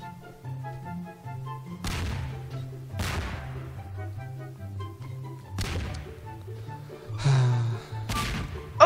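Cartoonish bomb blasts from the video game Melon Bomber, several sharp broadband bursts over a steady tonal game-music loop, with a bigger swelling blast near the end.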